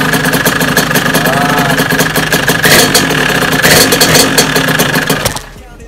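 A 50cc moped engine runs loud and close with a steady buzzing drone and slight revving swells, then cuts out abruptly near the end, leaving quiet.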